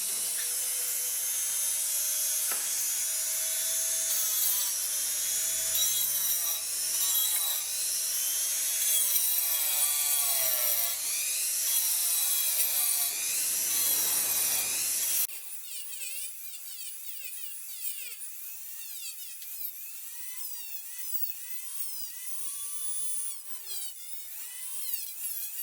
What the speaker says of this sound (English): let's see what the Dremel tool can do